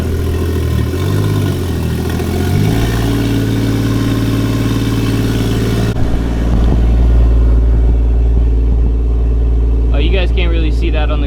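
A 1JZ-GTE engine swapped into a Nissan G35 car running at a steady idle, a loud, low droning hum with a shift in pitch partway through, then a deeper rumble as it carries on, with voices heard briefly near the end.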